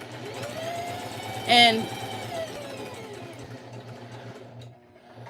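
A sewing machine runs a back stitch with a steady mechanical hum and rapid needle rattle, playing under a voice that talks over it throughout.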